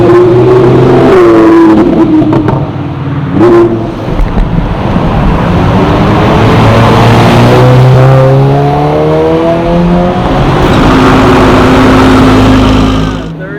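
A supercar with green brakes revs loudly at a car show, then accelerates away, its engine note climbing through rising gear sweeps before fading into a sustained roar, with brief voices in the crowd nearby.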